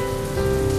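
Steady rain falling and pattering on surfaces, a dense continuous hiss with a faint tonal hum underneath, no voices.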